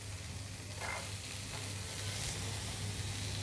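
Chopped onion and capsicum sizzle in a pan with chicken tikka over a low flame, a steady soft frying hiss with faint stirring and a low background hum.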